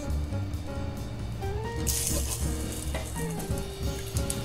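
Sliced lotus root searing in a hot pan over high heat, a steady loud sizzle and crackle of frying that runs continuously with brief spitting bursts.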